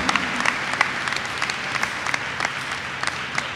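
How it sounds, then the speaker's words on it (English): At a high school district livestream event, an audience gives a round of applause as a professor is introduced; steady, moderately loud group clapping throughout, with some sharper individual claps standing out. "Round of applause, yep"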